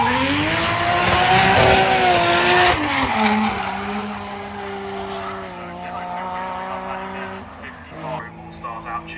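Drift cars run a demonstration lap on the circuit at Tunerfest North, engines droning loud and close with shifting revs and long tyre squeal through the slides, fading toward the end.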